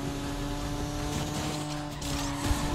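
Racing car engines roar continuously with squealing tires and skids in a street racing video game, a dense, loud stream of motor noise.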